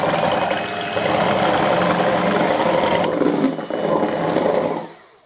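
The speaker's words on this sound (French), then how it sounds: "on va juste les monter en neige au batteur" Electric hand mixer beating egg whites to soft peaks for a chocolate moelleux cake, a steady loud whirring drone running continuously for about five seconds before cutting off at the end.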